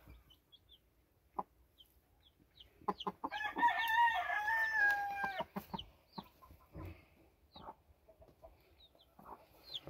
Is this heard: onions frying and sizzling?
no